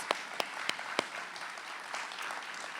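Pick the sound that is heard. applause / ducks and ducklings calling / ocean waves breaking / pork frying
applause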